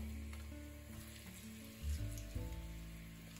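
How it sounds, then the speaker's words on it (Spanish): Garlic frying in hot oil for cocococha de bacalao al pil pil gives a soft, steady close sizzle with a few brief crackling bursts midway, quiet and without voices. "Y vamos a dorar los ajos."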